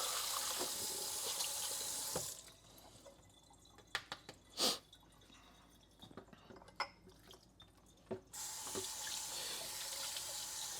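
Tap water runs hard into a kitchen sink while dishes are washed. The stream gushes loudly, cuts off for several seconds of drips and soft clinks, then turns back on strongly.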